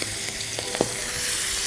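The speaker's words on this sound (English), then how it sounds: "we're gonna go in with the livers straight into that butter. Oh yeah, that's what you want. Popping, you want color," Chicken livers fry in hot butter in a pan, giving a steady close sizzle with scattered small pops and spits, no voices.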